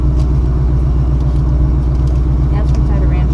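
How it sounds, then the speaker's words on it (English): A steady, loud low rumble of an idling 2014 Shelby GT500's engine fills the whole stretch, with faint voices in the background. "Maybe my car's too loud."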